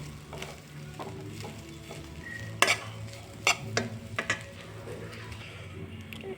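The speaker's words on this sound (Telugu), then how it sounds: "రైస్ వేసుకొని ఇలా చక్కగా కలుపుకోండి." Cooked rice stirred into scrambled egg in a hot pan, a low steady sizzle under repeated scraping and clinking spoon strokes, several sharper knocks against the pan near the middle.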